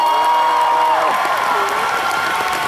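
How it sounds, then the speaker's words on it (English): Audience applause and cheering for a musical guest at an anime convention opening ceremony, loud and sustained, with bright tonal music or feedback lines riding over the crowd noise. "let's hear another big round of applause for our musical guest"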